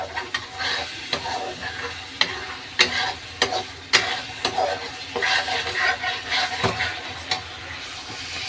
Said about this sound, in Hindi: और ये देखिए कितना अच्छे से मसाला भुन रहा है।